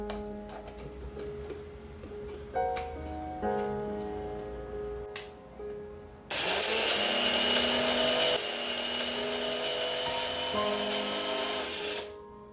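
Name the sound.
mixer grinder grinding dried coriander, mint, curry leaves into powder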